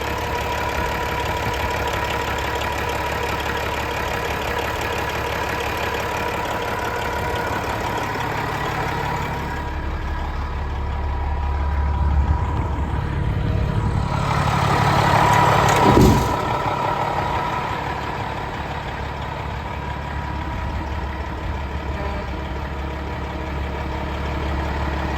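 A Detroit diesel idles steadily in a 2016 Peterbilt 389 glider day cab, a close, continuous low rumble with a slight swell midway and a brief sharp knock near the end, with no talk.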